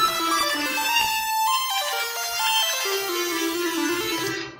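Layered synth tones from the Morphin 6, Square Purity and Poison 2 plugins play a bright, harmonic melody that steps through several notes before fading out, clear and alone.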